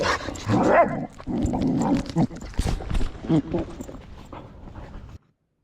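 A frustrated, hypervigilant dog with complex PTSD being held back on restraint, giving whimpering, agitated sounds mixed with shuffling, while a person talks over it at close range.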